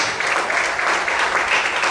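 Church congregation applauding during a sermon, a steady wash of clapping that fills the room, moderately loud and continuous from start to finish.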